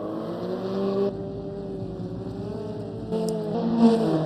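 Race cars in a racing video game pull away from the start, their engines rising and shifting through gears in a steady, moderately loud whine with no voices over it.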